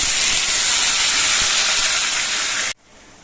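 Water poured into a pan of hot fried vegetables sets off a loud, close, continuous steam hiss that ends abruptly, leaving quiet.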